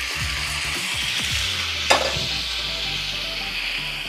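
Boiled moringa drumstick pieces fry in a pan for a milk-based curry, a steady close sizzle with several scraping stirs and one sharp clack of a utensil.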